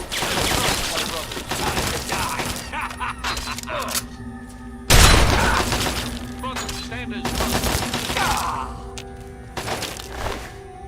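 Rapid gunfire in Fallout 3 as an enemy is shot, with dense bursts of reports and one heavy impact midway, mixed with game noise and someone talking over it.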